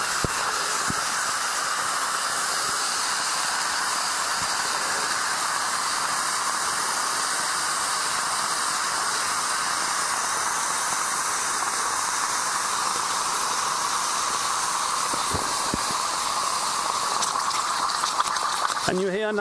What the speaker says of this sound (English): And you hear now my water is boiling.